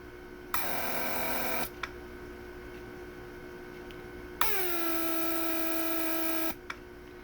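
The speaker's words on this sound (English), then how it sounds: "first activation was to pump up the pressure because I have the port blocked" A Mercedes S-Class W140 central locking pump motor whirs on twice, building pressure against a blocked port, each run a steady hum lasting about a second and then two seconds, starting with a click and stopping abruptly.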